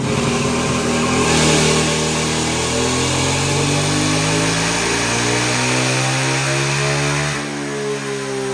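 A land speed racing motorcycle engine revs hard and close, holding a loud, rising and falling mechanical roar for several seconds before the pitch drops near the end.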